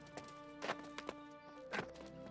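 A few soft hoof clops on ground from a horse in Skyrim, quiet and uneven, over a faint sustained musical tone.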